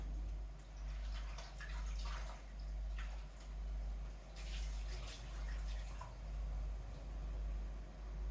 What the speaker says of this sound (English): I'm just gonna quickly wash the plantain.